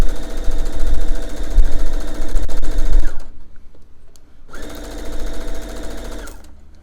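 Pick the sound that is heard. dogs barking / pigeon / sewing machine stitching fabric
sewing machine stitching fabric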